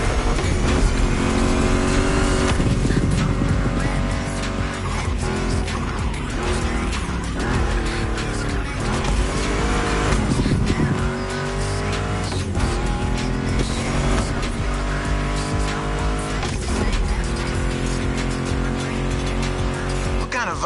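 Mustang GT muscle car racing in The Crew Motorfest, with a steady loud engine drone, shifting revs and tire squeal under continuous music-like tonal layers, without breaks for the full length.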